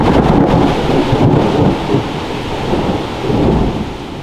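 Heavy rain pours steadily on a rainy day while rolling thunder rumbles loud and continuous underneath, no voices present.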